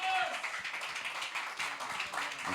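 Applause from a church congregation during a worship service, dense broadband clapping filling the whole moment, with voices mixed in.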